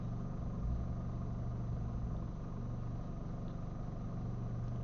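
A PT Sport car engine idles with a steady, even low rumble, close by and continuous with no other sounds.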